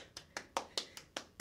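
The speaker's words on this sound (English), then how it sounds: "Yes, clap it up." A single person claps seven times at a steady, moderately quick pace; each clap is sharp, close and distinct, with quiet gaps between.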